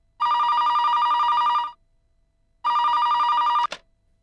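An office telephone with a bell ringer rings loudly and close in two long electronic bursts separated by a pause, the second cut short by a click as the receiver is picked up.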